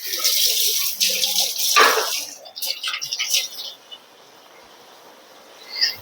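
Water splashes into a used cooking utensil to soak it while sabudana potato chakali is being made, in short gushing bursts for about two seconds before things quiet down, with a voice nearby.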